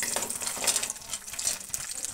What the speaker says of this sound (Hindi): इनको फ्राई करने के बाद इनको सौते ही करना है